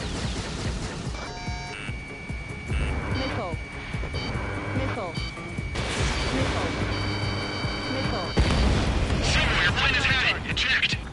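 Missile explosions and jet noise in the air combat game Ace Combat 7: booming blasts and rushing aircraft roar, with warning tones and beeps, while radio voices talk over the action.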